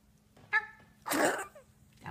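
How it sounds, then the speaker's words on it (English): A dog gives a single short, sharp, breathy sneeze close by, with a faint small vocal sound just before it in an otherwise quiet room. "That was a sneeze."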